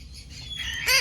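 A Hahn's macaw lets out a loud, shrill call close by, a brief harsh squawk rising at the end of a short stretch of softer chirping.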